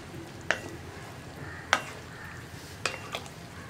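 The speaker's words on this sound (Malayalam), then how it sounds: "ഇനി ഇതൊന്ന് നന്നായിട്ട് ഇളക്കി മിക്സ് ചെയ്യാം" A spoon stirs chickpeas into a simmering masala for kadala kurma in a pan, with three or four sharp scraping knocks against the pan over a low steady sizzle, close and clear.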